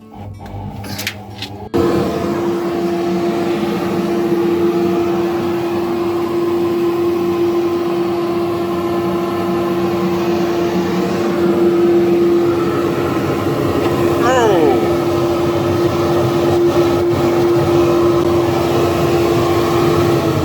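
A Fox F50-842 dust collector in a garage switches on with a few clicks and a thump, then settles into a loud, constant motor drone with a steady whining hum that runs uninterrupted to the end.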